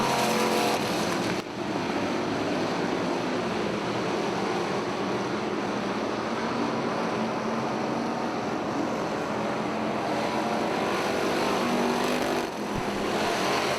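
Pure stock race cars roaring around the Lake Ozark Speedway oval, a dense, steady wall of engine noise from several cars at once, loud and continuous throughout with no pauses.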